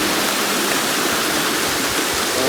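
River water rushes and churns steadily on a rainy day out, a dense, close, continuous wash of flowing water with no voices over it.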